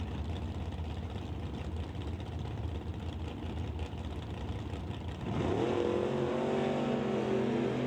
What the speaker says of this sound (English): Kevin Garlock's Camaro going to be going up against Brian Heffel's Chevy Vega